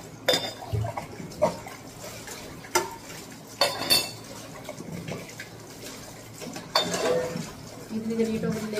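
Dishes, pots and pans being washed, with scattered clinks and clatters of cutlery and utensils and bursts of running water, irregular and close, with a voice speaking now and then.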